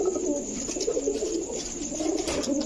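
A breeding pair of Pakistani Rampuri pigeons coo steadily nearby, their low, throaty rolling calls repeating over faint background noise.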